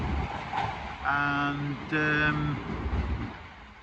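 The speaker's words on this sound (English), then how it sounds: "There's my train pulling out" A train pulls out of Salford Crescent station in Manchester, a steady low rumble with a rising two-tone electric whine surging twice, heard nearby on the platform with a brief word spoken over it.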